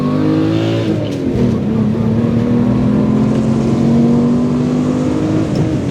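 A loud Subaru SVX engine, manual-swapped, revs and pulls hard in first gear out of a corner, its steady droning note rising slightly as it accelerates, close and continuous throughout.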